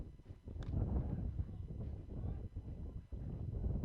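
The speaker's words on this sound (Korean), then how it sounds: "바람 소리 정말 많이 나고 있는데요" Wind buffets the microphone outdoors at a K3 League football match as a steady, heavy low rumble that swells and dips for several seconds, with no voices.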